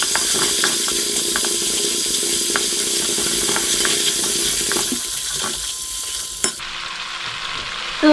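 Butter, half of a 200-gram block, melts and sizzles steadily in a pan with a continuous frying hiss and a few light clinks, ending with a brief clatter and quieter hiss.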